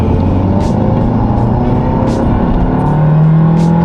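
A Volkswagen Golf 7 GTI Clubsport engine hums steadily from inside the car under load, with a deep continuous intake drone from the air filter and a rising tone near the end.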